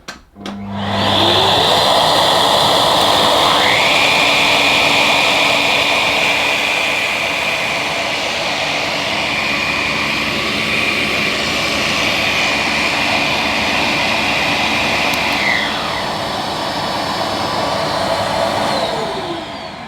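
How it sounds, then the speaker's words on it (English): A Bissell Smartclean Pet upright vacuum cleaner switches on and whines up to a loud, steady roar, holding a continuous high-pitched motor drone close by with a slight shift in tone partway through. "So we'll turn the cleaner on."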